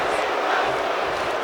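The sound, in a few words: wrestling crowd chanting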